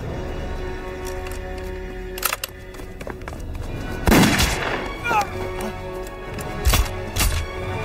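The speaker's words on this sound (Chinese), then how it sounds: "开枪。" Gunfire from a kung fu war film with Japanese soldiers, sharp shots and bursts scattered across the scene, loudest mid-clip, over a mixed soundtrack without clear talk.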